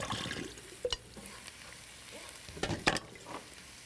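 Curry powder and turmeric are stirred into frying food, a soft continuous sizzle broken by a few scraping spoon strokes against the pan at close range.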